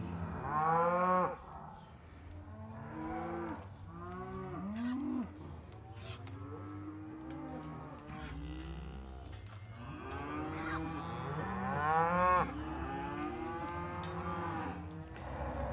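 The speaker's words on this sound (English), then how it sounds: "These all cows? Let them out there, Nate." Cattle mooing repeatedly in a sorting pen, a steady run of loud, drawn-out lowing calls from several animals, some near and some farther off, with no talk over them.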